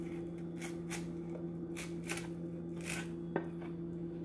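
Knife sliding between red snapper skin and fillet while skinning fish for sushi, a series of faint, crisp scraping strokes in an irregular rhythm over a steady low hum.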